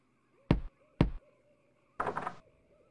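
Knocking on a door in the video game The Secret of Monkey Island: two crisp, evenly spaced knocks, then a rougher rattling burst, all over a quiet, steady background tone.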